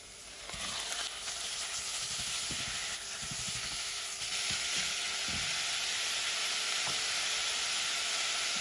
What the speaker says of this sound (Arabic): بنقلي البصلة على الغاز